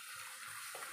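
A little water is poured into a pan of fish in sauce in a home kitchen, a soft, steady splashing trickle that runs briefly and faintly on its own.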